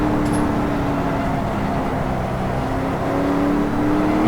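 An Ultima GTR engine pulls steadily under throttle from inside the car, a loud, droning tone rising gradually and filling the whole stretch without a break.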